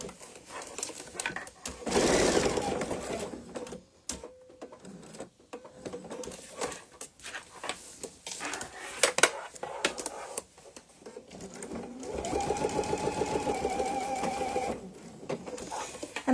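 A sewing machine stitches a backpack in short, fast runs, its rapid mechanical rattle stopping and starting as the fabric pivots on the needle, with clicks and handling noises between bursts.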